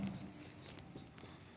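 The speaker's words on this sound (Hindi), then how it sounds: "यहां लिखता हूं मैं" Soft, close scratching of writing on a board, a few short strokes in quick succession, faint and alone.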